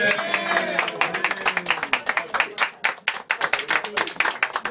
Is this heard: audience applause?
yes